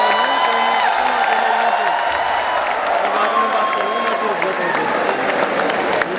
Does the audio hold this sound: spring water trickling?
no